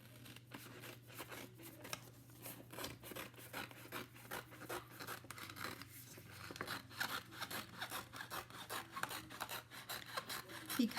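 Scissors cut through a chalk paste stencil with steady rasping snips and rubbing, close and quiet, repeating in a continuous rhythm over a faint background hum.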